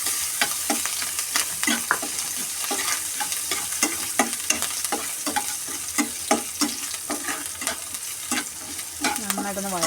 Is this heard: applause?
no